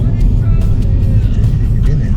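A guide car drives past on a road during a trip between Cusco and Arequipa, a loud, close, steady engine and road rumble that fills the short clip.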